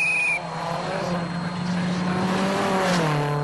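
Rally cars tearing through a forest stage in the video game WRC 10, a steady high engine drone holding one pitch with rising harmonics toward the end, loud and continuous with no voices.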